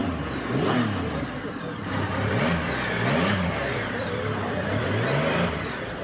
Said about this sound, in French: c'est la nouvelle Rocket 3R, un 3 cylindres de 2500 cm3 qui en fait la plus grosse moto de série au monde